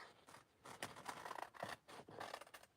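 Scissors snip with short crisp cuts in a quiet room, several quick strokes spaced in an uneven rhythm.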